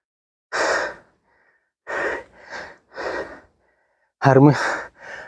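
Heavy, laboured breaths from someone trekking up a steep hill, coming in separate loud bursts with short silences between them, close to the mic, the last burst raspy and strained.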